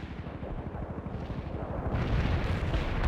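An artillery barrage in the strategy game World in Conflict rolls on without pause, a dense rumbling of overlapping distant blasts that swells louder and heavier toward the end. No one speaks.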